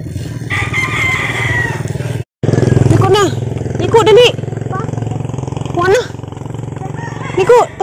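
A motorcycle engine idles as a steady low drone through the whole clip, briefly cutting out once, while a rooster crows nearby and people talk over it.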